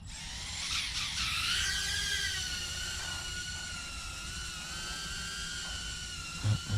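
An Emax Tinyhawk 2 micro drone on a 1S battery takes off, its tiny motors whining in a high, shifting buzz that rises and wavers throughout, close and steady, with no talk.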